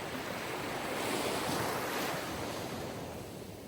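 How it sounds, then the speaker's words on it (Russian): Steady, full roar of sea surf with waves washing continuously and a slight swell in loudness midway, mixed with some wind noise and no voices. "Шум моря"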